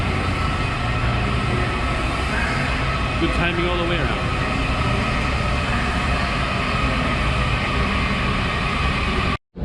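Red line subway train pulling into a station, a steady loud rumble and rail roar that runs the whole time beneath a person talking, cutting off abruptly at the very end.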